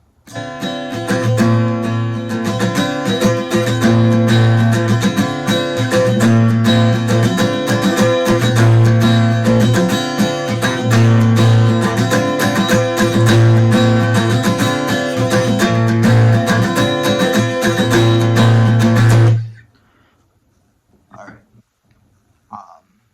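A guitar plays the chord progression of a song, strummed steadily and loudly for about nineteen seconds before stopping abruptly, followed by a few faint, brief noises.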